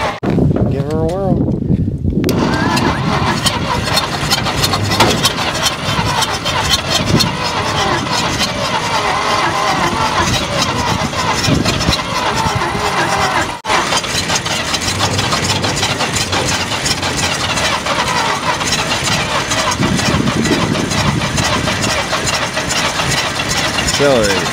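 A 1949 Dodge pickup truck, abandoned in the desert for decades, cranks and catches, then runs at a loud, uneven idle nearby for the whole stretch, with people talking over the engine noise.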